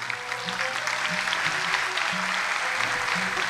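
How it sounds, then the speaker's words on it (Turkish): Audience applause at a school memorial ceremony: steady, dense clapping that continues evenly throughout, fairly loud and close, with faint voices underneath. "Seni alkışlıyorlar."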